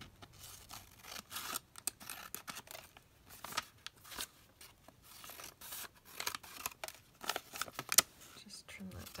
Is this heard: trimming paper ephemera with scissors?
yes